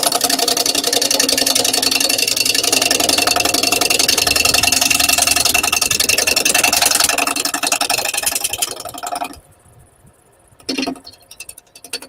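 A motor runs loud and steady for about nine seconds, with a constant mid-range hum and rattle. It then cuts out abruptly, leaving near quiet broken by a brief burst of noise.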